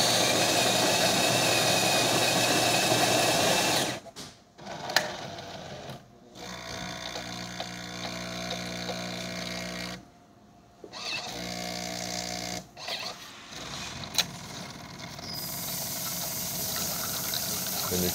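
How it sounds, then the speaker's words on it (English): A Jura S8 coffee machine brewing espresso gives off a steady, close pump whirr and buzz that cuts out briefly several times before resuming. "And then we'll test the espresso."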